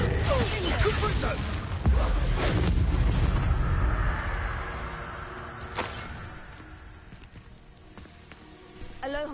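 A Confringo blasting spell erupts in a Hogwarts deathrun game, a booming blast with rumbling debris that fades over several seconds, while someone talks over it.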